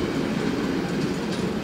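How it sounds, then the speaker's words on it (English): A long passenger train bound for Toronto rolls by slowly without stopping, giving a dense, even rumble of wheels on rails, close and loud throughout the short stretch with no talk. "Big afternoon train to Toronto."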